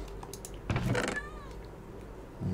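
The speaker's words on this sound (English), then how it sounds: "Another cat, hello cat." A cat meows once in the video game Minecraft, a short mid-pitched call with a falling tail, heard faintly over game background noise and soft keyboard clicks.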